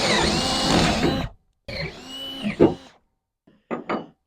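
A power drill with a 3/8-inch bit boring through an ATV safety ramp, heard as a whirring burst that stops, then a second shorter run with a clunk, followed by a few brief close knocks.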